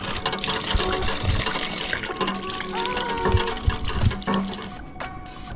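Water splashing and running from a small outdoor fountain during a refill stop on a long solo mountain bike ride, a close gurgling flow with bursts of splatter, tapering off near the end.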